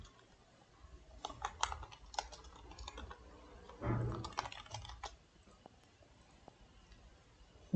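Typing on a computer keyboard during Flutter Firebase coding work: scattered bursts of quick, light key clicks with short pauses, fairly close and quiet in a still room, no talking.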